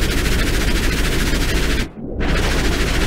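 Continuous rapid gunfire from ships in Stormworks pours onto an oil tanker, a dense steady barrage broken by one short pause before resuming just as loud.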